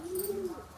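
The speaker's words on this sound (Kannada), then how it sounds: "ಇಲ್ಲಿ ವೈಟ್ ಪಾರಿವಾಳ ಇದೆ." A white pigeon gives a single short low coo, fairly close and faint, with no other sounds.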